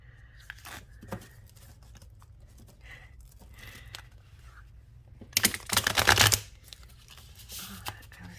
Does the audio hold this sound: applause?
no